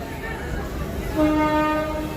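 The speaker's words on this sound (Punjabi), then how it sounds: "ਸਾਡੀ ਗੱਡੀ ਦੀ ਵਿਸਲ ਵੱਜ ਗਈ ਹੈ ਜੀ ਤੇ ਜਾਣ ਲਈ ਤਿਆਰ ਹੋ ਗਈ ਹੈ" Horn of the 22485 Intercity Express sounding at departure from Ludhiana, a sustained tonal blast rising partway through over the hum of the train and platform.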